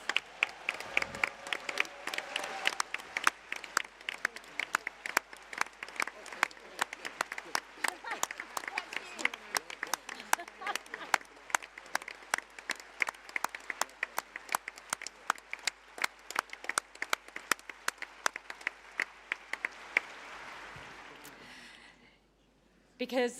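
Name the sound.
applause for party staff at Labour Party conference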